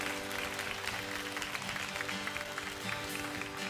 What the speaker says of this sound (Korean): 우리 다시 한번 크게 박수를 한번 우리 격려하도록 하겠습니다